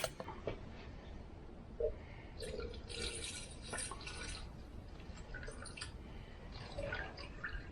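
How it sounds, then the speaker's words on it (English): Diesel fuel being poured into the tank of a VEVOR 8KW diesel air heater, a faint, soft trickling and dripping of liquid, quiet and close. "So I'm going to put 8 ounces of fuel in it"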